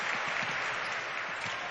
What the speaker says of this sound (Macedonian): Аплаузот од целата сала е за транспарентот истакнат на спротивната трибина